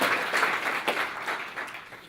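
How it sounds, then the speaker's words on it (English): Audience applause for the crew who set up a Village Green Center kick-off meeting, a moderate steady patter of many hands from a modest crowd in a room, fading slightly toward the end. "let's give them a round of applause for getting this all set up for tonight"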